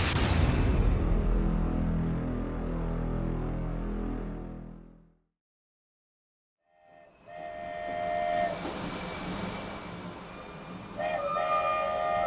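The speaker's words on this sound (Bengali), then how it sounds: "ট্রেনটা যেন দীর্ঘশ্বাস ফেলে থামলো ছোট্ট স্টেশনে।" A train pulling into a small station: loud rolling rumble and clatter of the cars, a silent gap, then hissing and tonal whistle-like squeals as it slows and stops.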